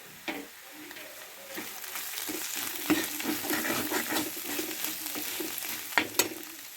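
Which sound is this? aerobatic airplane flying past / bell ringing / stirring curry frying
stirring curry frying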